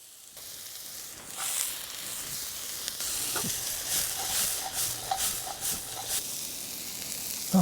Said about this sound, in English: We'll saute the onions in there first, throw the carrots in, and we'll get the garlic in there as well.